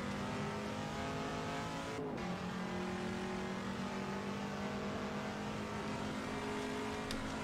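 A Chinook Mk2 Can-Am race car in a video game drives hard and drifts, its engine droning steadily with a shift in pitch around two seconds in, continuous and loud throughout with no talking.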